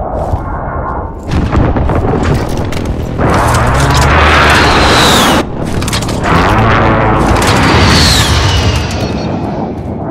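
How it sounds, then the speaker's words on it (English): Repeated heavy booms and blasts from a precision airstrike in the video game Call of Duty Modern Warfare 2, loud and dense, with two sustained bursts of rumbling explosions and gunfire-like cracks over several seconds. "Allied precision airstrike incoming."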